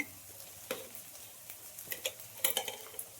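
Cooked rice for egg fried rice being stirred in a hot pan, with a soft steady sizzle under a run of scraping and clinking stirring strokes that pick up toward the end; no talking.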